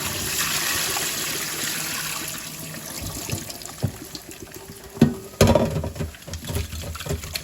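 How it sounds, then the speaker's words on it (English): Water is poured off shrimp through a strainer, giving a steady splashing pour that fades. Sharper clatters and knocks from the strainer or pot follow at close range. "I'm going to go ahead and drain this water off with my strainer"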